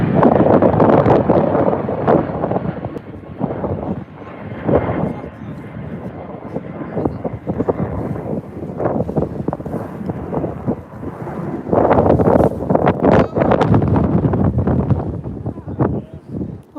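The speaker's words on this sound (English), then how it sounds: "The wind is awful at times." Storm Eowyn's strong wind at Manchester Airport buffets the microphone in loud, rumbling gusts that rise and fall throughout, with someone talking at times beneath the roar.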